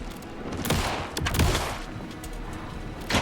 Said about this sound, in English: Anderson, just pin him down with gunfire for me to get the light on him.